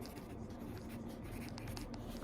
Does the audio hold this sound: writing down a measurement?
yes